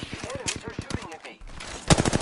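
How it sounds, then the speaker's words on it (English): Rapid bursts of enemy gunfire in the shooter game Apex Legends, sharp repeated shots in quick volleys, fairly close and loud, with a brief lull before another heavier burst. "Enemies are shooting at me."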